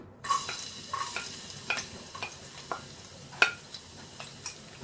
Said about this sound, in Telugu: పచ్చిమిరపకాయ ముక్కలు వేసి వేయించుకోవాలి